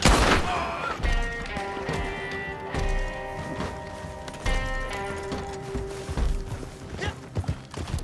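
A horse gallops toward the player in Red Dead, its hoofbeats thudding in a quick irregular rhythm over a sustained tonal music bed, growing busier and more prominent toward the end.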